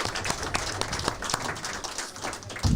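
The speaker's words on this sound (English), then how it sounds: "Big applause, big applause." Audience applause at a Croatian sommelier championship, steady clapping with sharp individual claps, moderately loud, with little talk.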